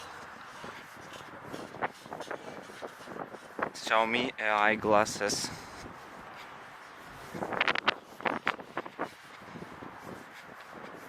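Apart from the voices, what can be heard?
wind blowing outdoors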